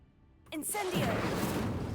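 A fire spell cast in Hogwarts Legacy bursts in abruptly and swells into a loud, sustained fiery whoosh, with a voice calling out over the start.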